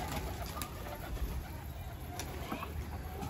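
Pigeons coo softly and intermittently outdoors amid steady ambient background noise, with no talking.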